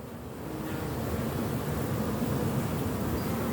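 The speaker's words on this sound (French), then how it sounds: "c'était une petite visite pour faire un petit coucou aux abeilles" Honey bees hum at a beehive during a late-season inspection of the top super, a dense steady buzzing drone that swells slightly, close and continuous without talk.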